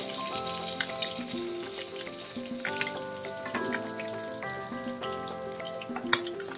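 Shrimp frying in hot oil, a steady close sizzle with scattered pops and crackles alongside some clinking, and no one speaking.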